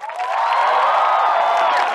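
On a Chinese singing-competition stage, an audience cheers and applauds for the band. The roar of the crowd is loud and sustained, with whoops rising above a dense wash of clapping.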